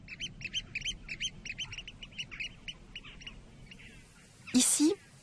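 Jackdaws on Norderney island give a rapid series of short, bright calls, fairly close, followed by one louder harsh burst near the end.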